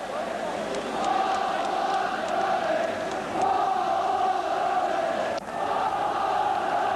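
Angry Rangers supporters roar and chant at Ibrox stadium during the 1983-84 season, a dense, sustained crowd din with rising and falling surges, heard from a distance under a commentator's voice.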